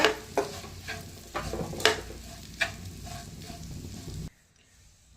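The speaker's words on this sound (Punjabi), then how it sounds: "ਪਾ ਦਿੰਦੇ ਅਸੀਂ ਫਰਾਈ ਕੀਤੀਆਂ ਆਲੂ ਪਿਆਜ਼ ਤੇ ਸ਼ਿਮਲਾ ਮਿਰਚ ਇਹ ਪਾ ਦੇਣੀ ਹੈ ਇਹਨਾਂ ਕਰਦੇ ਆ ਮਿਕਸ" Fried potatoes, onion and capsicum being stirred in a pan for aloo chilli, with repeated scraping strokes over a steady sizzle, close and fairly loud, stopping abruptly near the end.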